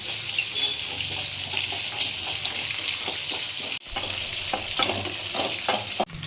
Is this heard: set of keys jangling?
no